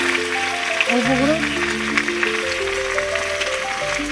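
Potatoes frying in a pan while a Bengali koi fish curry is being cooked, a steady soft sizzle running under background voices and tonal music throughout.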